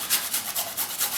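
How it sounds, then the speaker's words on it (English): Fresh ginger scraped over a grater for fish masala curry, a quick series of even, rhythmic rasping strokes, close and moderately loud with no talking. "I start preparing the fish by just grating"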